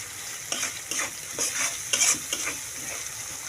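Chepa dried fish is stirred in a kadai, with a soft continuous sizzle and several rhythmic scraping strokes about every half second, close and fairly quiet.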